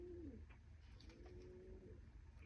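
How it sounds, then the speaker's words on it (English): Pigeons cooing softly nearby, a couple of low rolling coos rising and falling over faint steady background noise, with no voices. "the pigeons are really cooey"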